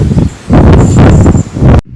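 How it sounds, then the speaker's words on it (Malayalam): Strong, blustery wind on the hilltop of Sigiriya Lion's Rock, Sri Lanka, buffeting the microphone in loud rumbling gusts, with brief lulls between them, then a sudden cut to near silence at the end. "പിന്നെ നല്ല കാറ്റുണ്ട്"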